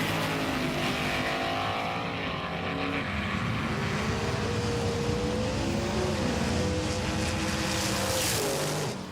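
Two race cars run side by side, their engines a steady loud roar with wavering pitch lines climbing and dipping through shifts, sustained for the whole stretch without any talking.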